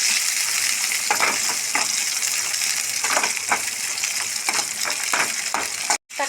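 Onion, green chillies and dried red chillies fry in a pan for tempering, making a continuous bright sizzle with scattered crackles and pops that run steadily throughout.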